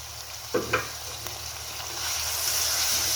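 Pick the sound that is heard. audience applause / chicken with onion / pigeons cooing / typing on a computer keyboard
chicken with onion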